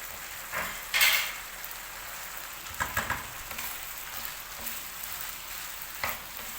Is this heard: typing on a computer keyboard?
no